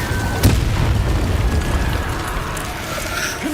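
An Incendio fire spell in Hogwarts Legacy bursts with a sharp pop early on, then rolls into a sustained booming rumble that slowly eases off.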